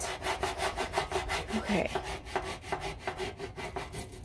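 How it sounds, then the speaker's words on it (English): Steady rhythmic rasping of a power tool working wood, close and loud, with a brief word spoken partway through. "If you could take the noisy power tool away, that'd be great."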